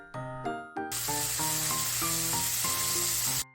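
Onion and paprika stir-fried in two spoons of oil for japchae, a steady bright sizzle starting suddenly after a few musical notes and running continuously over a background melody before cutting off.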